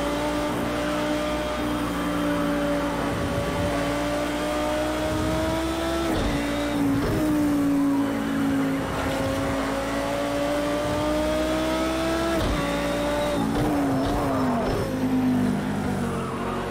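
Race cars, including a Nissan Skyline GT-R, roar through an online race in the Project CARS 2 racing game, engines holding a steady whine with pitch dips at gear shifts and steady loud revving throughout, no talk.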